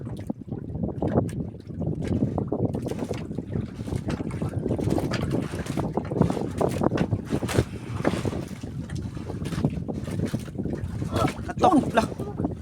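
Motor fishing boat out on the water with the catch coming in, a steady broadband engine and hull rumble mixed with wind buffeting the microphone, loud and continuous throughout, with voices talking over it.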